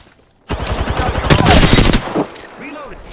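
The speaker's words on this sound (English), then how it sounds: "Opening fire on the enemy." Gunfire in a battle royale video game erupts in a loud, rapid automatic burst for about a second and a half, followed by quieter game effects.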